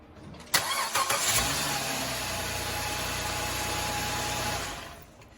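A Chrysler/Dodge 2.7 V6 cranks for about a second and catches, then settles into a steady mid-pitched idle for several seconds. The engine is loud and close, and it stops near the end.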